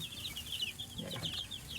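Bantam chicks and chickens chirp and cluck on a farm, producing a steady run of high peeping calls with a few lower clucks mixed in, heard close and continuous without any talking.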